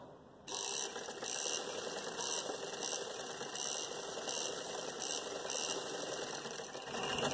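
A sewing machine stitches elastic into trousers, running steadily and close by after starting at about half a second, with a continuous whirring motor and rapid needle clatter, no talk.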